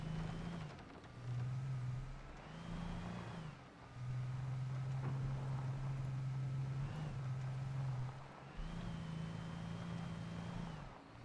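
A car engine in the video game Alan Wake drones at a steady pitch, dropping and rising again between gear shifts as the car speeds along.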